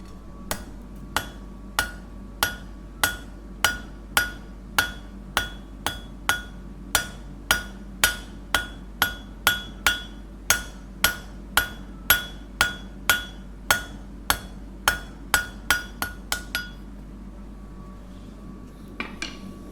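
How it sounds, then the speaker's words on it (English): A roughly two-pound hand hammer strikes hot metal on an anvil at a forge, about two dozen loud, ringing blows in a steady, even rhythm that speeds slightly near the end before stopping. "A hammer, hand hammer, maybe 2 pounds roughly, a kilo sort of weight, and an anvil"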